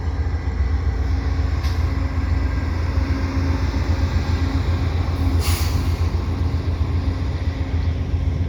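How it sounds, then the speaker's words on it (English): A Via Rail LRC passenger train rolls past near the Lachine Canal bridge, producing a loud, continuous rumble of wheels and cars that holds steady throughout, with a couple of brief high hissing bursts. "Yep, that's a Via train there."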